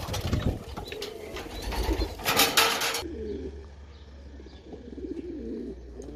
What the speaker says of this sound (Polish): Gołębie są, ale ile?